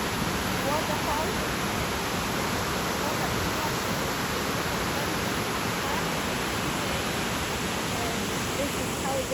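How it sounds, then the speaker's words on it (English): A river waterfall in Leamington Spa roars as a steady, dense rush of falling water, loud and unbroken throughout with no pauses. "I love this waterfall."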